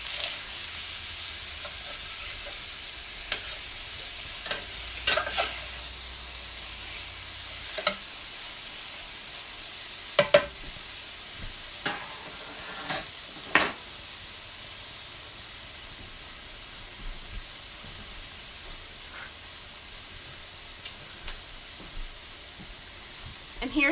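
Chicken sears in a pan for a chicken and rice casserole, a soft steady sizzle and hiss running under the whole stretch, broken by a few sharp clinks and stirring clatters.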